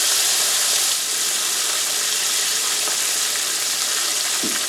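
Steady, loud sizzling and bubbling of pork frying in hot oil, moisture bubbling out, a continuous crackling hiss with no voices.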